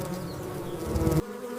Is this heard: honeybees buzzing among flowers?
yes